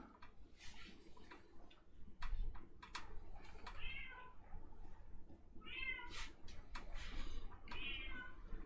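A cat meowing and crying indoors, several short plaintive meows spread across the clip over a low room hum and faint ticking.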